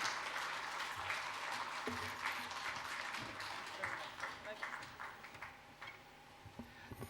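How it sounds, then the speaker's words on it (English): Faint, distant applause from a large audience at a doctorate conferring ceremony, a continuous wash of clapping that slowly thins out. "let's welcome him with a loud round of applause,"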